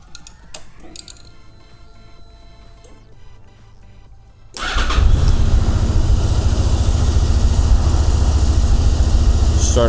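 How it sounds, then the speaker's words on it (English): A Honda VFR800 motorcycle, fitted with snorkel, PAIR and flapper modifications, is quiet at first with faint clicking and handling noises, then the engine fires at once and settles into a loud, steady, rumbling idle. "And now I'm going to try starting up the bike, making sure nothing breaks."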